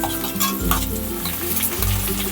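Onions browned lightly with a large tomato and chopped chillies frying in a pan, a close steady sizzle broken by a few scraping stirs of a spoon against the pan, with no talk.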